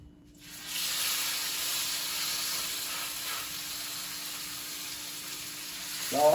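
Chicken sizzles and hisses steadily in a hot pan, a loud, close frying crackle that starts abruptly and carries on without pause, with no talking over it.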